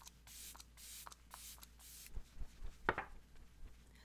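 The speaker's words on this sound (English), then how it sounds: "I'm going to be going in with the Pony FX Hyper Protection Setting Spray." An aerosol makeup setting spray hisses in several short, close bursts with brief pauses between them, followed by soft handling noises and light tapping.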